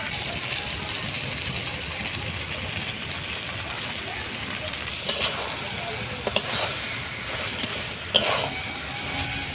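Shrimp and greens frying in hot mustard oil give a soft, steady hissing sizzle with a few sharp pops and spatters toward the end, close and alone.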